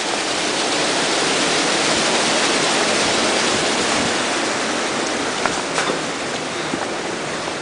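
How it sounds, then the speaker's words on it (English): Dense, steady rushing of falling water, loud and continuous from a walk-through waterfall at a cave at Rock Island State Park, Tennessee, with no voices. "So it's a kind of walk through waterfall there, walk under."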